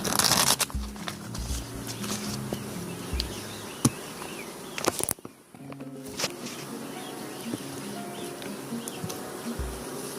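Bees hum and buzz steadily up close at an opened hive, with soft rustling, tapping and a few low thumps as brood frames are handled nearby.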